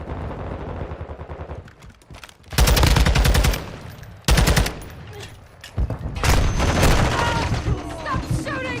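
Heavy automatic gunfire in an online first-person shooter match, loud sustained bursts of rapid fire in two long volleys with shorter spurts between, under game announcer callouts and a player's voice.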